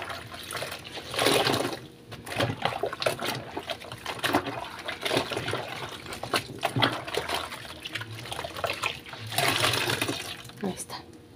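Running water splashes and trickles as dishes are rinsed in a tub during a dishwashing routine, a steady close wash with louder surges near the start and end.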